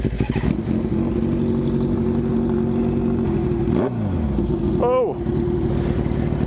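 A loud motorcycle roars past nearby, its engine pitch swooping down as it goes by, over the steady drone of a Ninja 400 being ridden; one person gives a brief exclamation.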